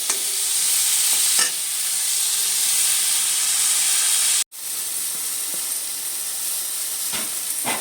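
Tomatoes simmering in a pan with salt give off a steady, close hiss and sizzle of frying and steam that runs almost unbroken, cut briefly by a short pause midway.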